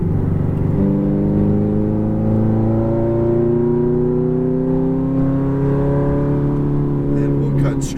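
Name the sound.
Ferrari F430 accelerating back on throttle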